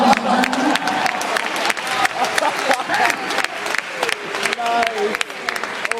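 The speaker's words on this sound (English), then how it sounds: "Nice round of applause." An audience at a high school hypnotist show bursts into applause and scattered cheers, with a voice talking over the clapping throughout.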